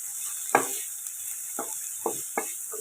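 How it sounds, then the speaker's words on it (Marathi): Onion sautéed in a pan: a few separate spatula scrapes and knocks, about five across the clip, over a faint steady hiss, close up and with no talking. "कांदा पण आपण आता छान असा परतून घेऊया"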